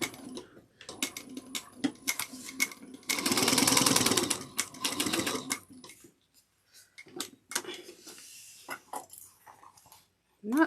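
A sewing machine top-stitches a bag in a few short runs of rapid mechanical whirring, the longest lasting about three seconds in the middle, with clicks and handling noises between stretches of near silence.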